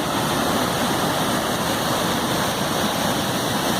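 Gudbrandsjuvet waterfall in Norway roars with a steady, dense rush of falling water, close and loud, constant throughout with no voices.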